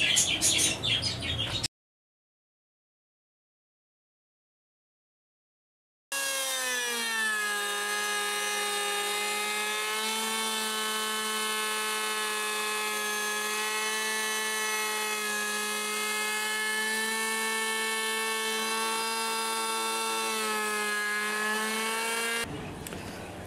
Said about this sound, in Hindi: ये दोनों साइडों पर मैंने इसका रंदा लगा दिया है